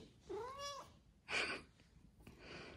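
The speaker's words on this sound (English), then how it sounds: "The cat will stay at home, although she's on my laptop bag right now." A house cat gives a clear rising meow, then a shorter second cry, both close and fairly soft, in an otherwise quiet indoor room.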